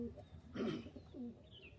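Pigeons kept by a fancier cooing softly, a few short throaty coos close by, faint and brief with no speech.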